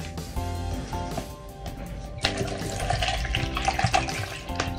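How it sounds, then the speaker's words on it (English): Water from a tap runs into a container for mixing a scoop of creatine supplement, a steady close splashing and gurgling that grows louder and fuller partway through, with clattering handling noises. "I put a scoop into a container and then with water."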